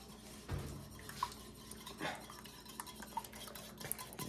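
A whisk works French toast batter in a bowl, making quiet, scattered clinks and scrapes of metal against the bowl, close by and with no talk.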